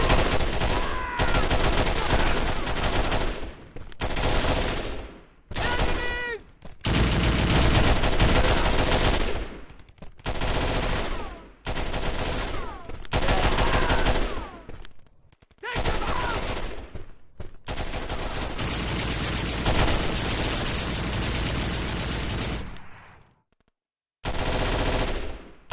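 Sustained machine gun fire from a gun emplacement in a video game hammers away in long loud bursts, broken by short silent pauses, with overlapping gunfire throughout.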